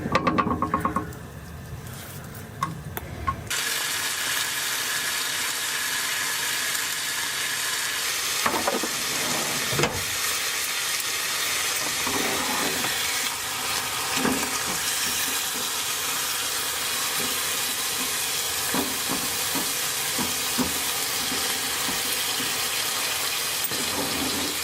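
Bacon sizzling loudly and steadily in a frying pan, a continuous bright crackle with occasional scrapes and clicks, no talking.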